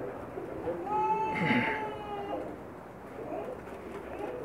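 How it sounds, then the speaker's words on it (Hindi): Prized fancy pigeons on a Pakistani rooftop loft coo softly, a few rising and falling calls near the middle, over steady ambient background noise with faint indistinct voices. "माशाल्लाह बहुत ही नायाब कबूतर हैं इनके पास"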